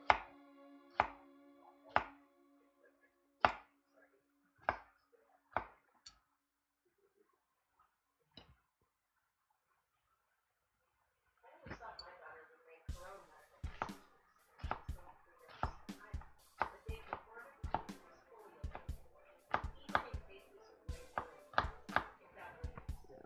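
A knife dicing onions finely on a cutting board: a few sparse chops at first, then after a pause a fast, steady run of close, crisp chopping strokes.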